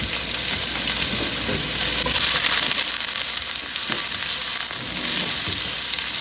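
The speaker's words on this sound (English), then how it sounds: "I'm gonna be putting the onions in now. Let me just saute lightly." Onions sauté lightly in a hot pan with a loud, continuous sizzle and hiss, while stirring adds occasional scraping and clattering over the steady frying noise.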